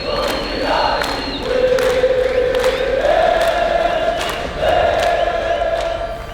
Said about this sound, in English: hearing all the fans cheering for us